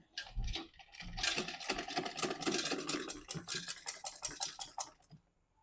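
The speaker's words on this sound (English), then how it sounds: "I'll just start sewing" A sewing machine stitches a flare onto fabric for a gown, a rapid run of needle clatter that builds and then slows into distinct separate strokes before stopping.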